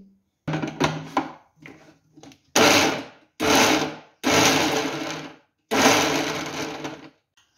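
A kitchen mixer grinder blending wood apple and chana dal chutney with oil, running in several loud close pulses of a couple of seconds each, with rattling and handling clatter before the first run.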